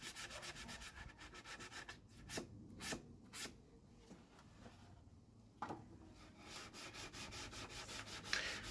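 Plywood pieces for beehive nucs are sanded by hand with rhythmic rasping back-and-forth strokes, close up and fairly quiet, pausing briefly midway before resuming.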